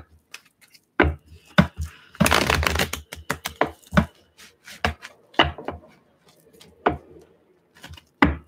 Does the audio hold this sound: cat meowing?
no